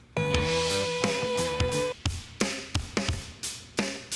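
Drums play alone, with a sustained tonal wash under the first half, then sharp kit hits whose tails trail off in faint repeating echoes from a Soundtoys EchoBoy delay on the whole kit.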